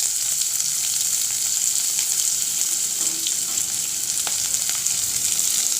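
Chopped garlic and onion frying in hot oil, a steady close sizzle with faint stirring scrapes and no voices.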